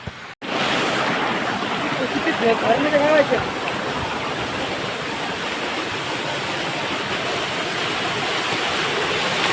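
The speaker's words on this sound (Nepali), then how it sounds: "यस्तो दामी झरना छ नि, अहिले तपाईँहरूलाई चकित पारिदिन्छु म।" A steady, full roar of rushing, falling water from a waterfall fills the scene, close and unbroken, with a faint voice briefly audible near the start.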